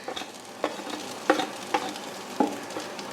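Onions sizzle in a hot pan for a rohu fish curry, a steady crackling fry broken by several sharper stirring scrapes, close and with no talking.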